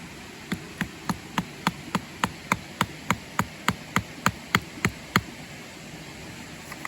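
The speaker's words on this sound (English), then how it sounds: "You're gonna hammer this into the ground right around here." Steady series of sharp hammer strikes driving a stake into the ground, about sixteen evenly spaced blows, close by over a faint outdoor hiss, slowing slightly toward the end.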